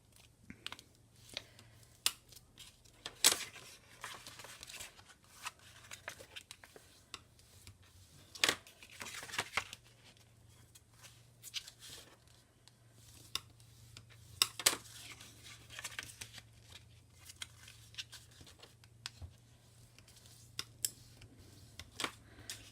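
Scored cardstock being folded by hand along its score lines for a miniature handbag craft, giving faint crisp creases and sharp paper snaps scattered irregularly over a low steady hum.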